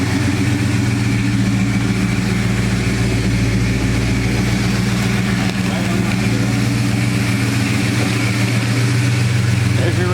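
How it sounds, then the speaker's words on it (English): A 1968 Dodge Charger engine idles steadily at close range with a deep, even rumble throughout, while a person talks over it. "listen to that engine. The engine just purrs like a kitten."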